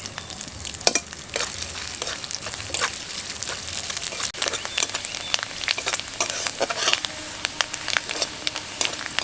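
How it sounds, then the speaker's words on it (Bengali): Grated coconut frying in mustard oil in a wok over low heat, giving a steady close sizzle with frequent scraping stir strokes throughout, with no talking. "কড়াইতে দিয়ে দেব সরষের তেল। কোচানো নারকেলগুলো ভেজে নেব।"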